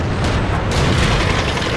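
An SU-100 tank cannon fires in World of Tanks, a loud, heavy boom that rolls into a dense, rumbling roar lasting the whole moment.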